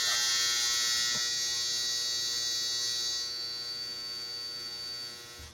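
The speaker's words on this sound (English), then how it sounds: "That's the dryer." Steady electrical hum and whir from a clothes dryer running nearby, loud and constant, then dropping slightly in level before cutting off at the end.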